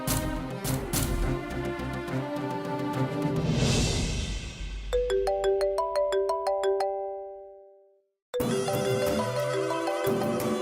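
An outgoing call gives a loud, close musical ringtone with repeated melodic notes for several seconds, cuts off briefly, then rings again.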